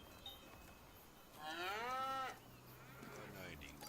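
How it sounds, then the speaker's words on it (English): A single drawn-out cow moo rises and falls in a Farming Simulator 25 pasture, fairly faint over a quiet background hum. "So now all of our cows are back in here."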